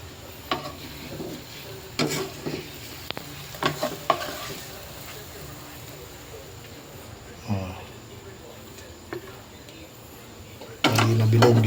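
Egg frying in a pan, a steady low sizzle with occasional spatula scrapes and stirring clacks, close up, ending in a louder burst of sizzling near the end.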